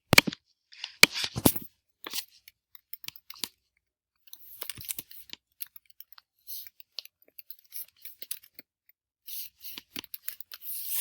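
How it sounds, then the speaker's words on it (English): Irregular bursts of clicky tapping, close and fairly quiet, with short pauses between flurries like keys being struck. "I'm going to start typing in my 6-word story or my text"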